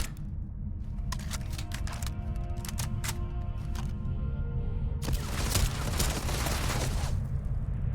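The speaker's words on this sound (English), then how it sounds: "Taking fire!" Incoming gunfire in Starfield rattles in quick sharp bursts, a string of irregular close cracks followed by a denser, louder volley, over a steady low game drone.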